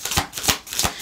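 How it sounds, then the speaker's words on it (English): Tarot cards being shuffled by hand in three quick riffling bursts, close and fairly loud, with no voices. "Okay, let's shuffle this again."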